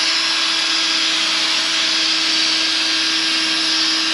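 Steady, continuous whir of a power sander working a C6 Corvette headlight lens with a white 3M sanding disc, loud and close with an unbroken broadband hiss and constant motor hum throughout, no talking.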